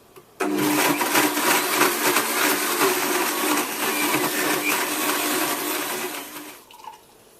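A blender blending a banana smoothie whirs loudly on high for about six seconds, a thick grinding roar that starts abruptly and winds down at the end.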